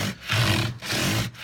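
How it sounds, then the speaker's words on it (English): A flat sanding block rubs up and back along a wooden cigar box guitar neck, giving three even, close abrasive strokes with brief pauses between them. "I'm putting a bit of that curve back in by running a flat sanding block"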